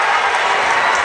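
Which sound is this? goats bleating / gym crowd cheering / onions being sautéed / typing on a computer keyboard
gym crowd cheering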